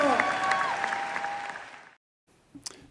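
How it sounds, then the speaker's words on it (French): Studio audience applauding a couple on a French television broadcast, a loud burst of clapping with voices mixed in, cutting off abruptly partway through, then a brief noise. "On les applaudit très fort."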